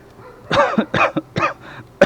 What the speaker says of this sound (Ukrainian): буду сьогодні кашляти